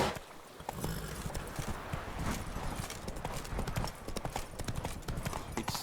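Hooves of Roach, a horse in a video game, clip-clop steadily at a trot throughout, a dense rhythmic patter of footfalls over game ambience with no talk.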